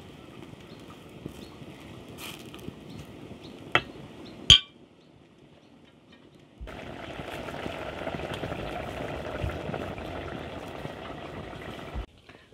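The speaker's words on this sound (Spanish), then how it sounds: "Estoy hirviendo el condimento." Seasoning simmers and bubbles in a pot for sautéed mushrooms, a steady moderate boil heard close up, with a couple of sharp clinks of utensils against the pot partway through.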